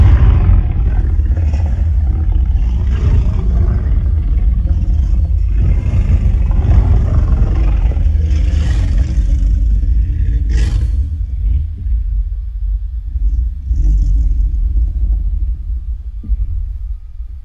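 A designed T-Rex roar slowed down six semitones lower through a large effects chain, a deep sustained rumbling roar that stays loud and dense for most of the span before thinning slightly toward the end, with no talk over it.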